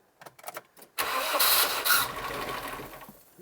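An old barn-find Nissan car with 90s British Touring Car history cranks briefly, then its engine catches at once and runs at a steady, loud idle close by, with a rev rise near the middle.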